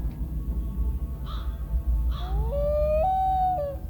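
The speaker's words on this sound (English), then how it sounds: "Loon." A loon calls in a long, rising and wavering wail that holds its pitch in steps, close and clear over a steady low rumble of background noise.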